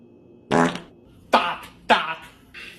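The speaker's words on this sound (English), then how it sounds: "Bro, you farted." Three loud, close farts in quick succession, each a short raspy burst separated by pauses, followed by a fainter fourth sound at the end.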